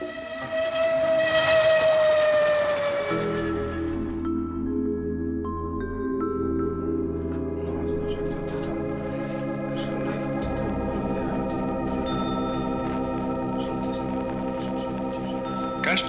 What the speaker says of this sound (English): And when they hear that choo-choo train steaming way out on the horizon